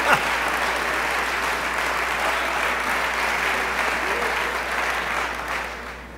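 Audience applause fills a New Jersey budget address hall, a dense, steady wash of clapping from a large crowd that holds for about six seconds before tapering slightly at the end.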